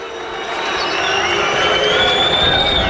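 A basketball arena crowd in Piraeus cheers after a dunk, a loud sustained roar with piercing whistles rising through it and swelling slightly toward the end.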